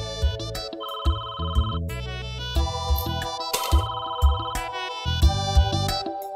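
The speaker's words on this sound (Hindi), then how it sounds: "कब से फोन बज रहे हैं, तुम लोग उठा क्यों नहीं रहे हो?" A landline telephone rings loudly with a repeating electronic melody, the bright tonal pattern cycling several times with no voices.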